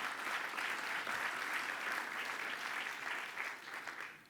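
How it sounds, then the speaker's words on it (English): An audience in a conference room applauds volunteers at an opening session, steady dense clapping throughout at moderate distance, fairly faint, tapering slightly at the end. "Please give them a big hand of applause"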